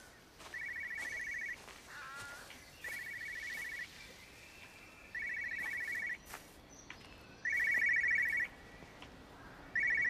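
An old telephone ringing inside the video game Everybody's Gone to the Rapture, four or five even trilling rings separated by pauses, moderately loud over quiet ambience.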